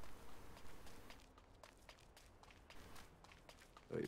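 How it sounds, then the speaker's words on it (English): Video-game footsteps patter in a quick, even run of soft thuds, heard faintly at a distance, with a brief louder knock at the very end. "I can hear footsteps"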